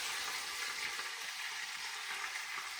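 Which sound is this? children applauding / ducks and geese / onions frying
onions frying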